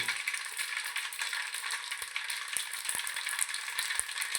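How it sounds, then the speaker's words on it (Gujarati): Mustard seeds crackling and popping in hot oil for a Kathiyawadi undhiyu tempering, a steady close sizzle with sharp pops scattered through it and no talk. "રહીને હરથી ફૂટી જવા દેવાની"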